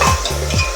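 Valor papdi with tomato-onion paste sizzling in a pan as a spoon stirs through it, close and loud, with rhythmic scraping strokes over steady frying crackle.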